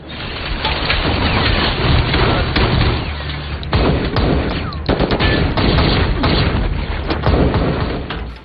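Heavy gunfire crackles and booms in rapid bursts and volleys during a shootout in the film White Elephant, loud and close, with a dense rumbling backdrop and no talking.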